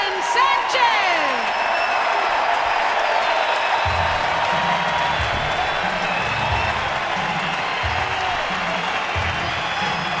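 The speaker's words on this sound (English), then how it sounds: "And listen to the applause for Jonathan Sanchez." A ballpark crowd applauds pitcher Jonathan Sanchez at a baseball game during his no-hitter, a dense, steady wash of clapping and cheering with a voice talking over it.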